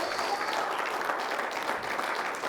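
Church congregation applauding loudly and steadily during a Spanish-language service, a dense continuous wash of clapping with no break, close and full throughout.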